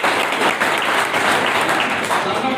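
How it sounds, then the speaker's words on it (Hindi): Loud, sustained applause from an audience for a successful SSC-GD candidate named Ashok at a coaching institute event, many hands clapping in a thick steady wash with faint crowd murmur. "एक बार ताली हो जाए अशोक जी के।"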